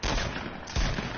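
Dense, continuous gunfire in Fortnite, loud and close, with a heavier crack near the end of the short burst.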